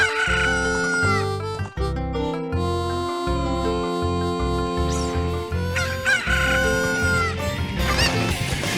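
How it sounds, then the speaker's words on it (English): Chickens clucking and crowing in Zelda Ocarina of Time, loud game audio where bright cock-a-doodle-doo crows and clucks ride over steady tonal background music throughout. "these chickens are too powerful!"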